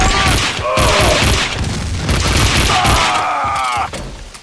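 Rapid, sustained gunfire from the video game Max Payne 2, dense bursts of shots rattling almost continuously for about four seconds before cutting off sharply near the end.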